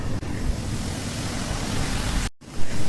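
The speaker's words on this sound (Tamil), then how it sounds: "சூடு பண்ணிட்டு இப்ப நம்ம ரிப்பன் பக்கோடாகளை பிழிய ஆரம்பிக்கலாம்." Ribbon pakoda dough pressed into hot oil and deep-frying, giving a continuous, loud, dense sizzle that briefly dips near the end.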